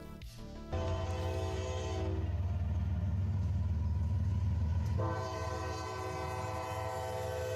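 A Kansas City Southern freight train sounds a long, loud, steady horn as it passes close by, with rumbling engine and rail noise underneath and the horn pausing briefly before resuming.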